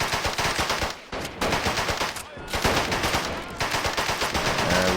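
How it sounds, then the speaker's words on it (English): A captured machine gun fires in the WWII strategy game Men of War Assault Squad 2 during a battle around Carpiquet, with loud rapid bursts broken by brief pauses and other gunfire mixed in. "Let's get a guy on this machine gun and turn it around."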